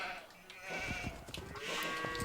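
Sheep bleating in a strategy video game, several short faint bleats over quiet game ambience.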